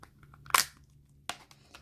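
Plastic packaging of a slime toy torn open, with one sharp crinkling rip followed by a second shorter crackle, quiet and close in an otherwise still room.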